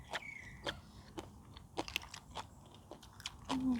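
Crisp purple eggplant is bitten and chewed up close, producing repeated sharp crunches spaced irregularly over a quiet outdoor background.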